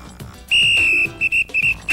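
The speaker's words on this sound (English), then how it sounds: "Let me do my special storyteller whistle." A storyteller lets out a loud, shrill whistle: one long sustained tone followed by several short, clipped blasts in quick succession, close up and alone.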